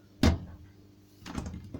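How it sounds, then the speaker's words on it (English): A Smeg washer dryer door swings shut with a firm thump, then a softer latching knock about a second later, close and clear in a quiet room. "There's the door."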